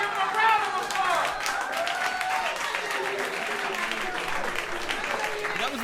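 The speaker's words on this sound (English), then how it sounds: "Give him a round of applause." A live podcast audience gives a round of applause during a rap battle league show. The dense, steady clapping runs throughout the clip, with a voice heard briefly near the start.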